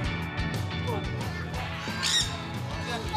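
Parrots squawk in loud, harsh bursts at a bird farm, several calls overlapping amid a busy background while people talk nearby.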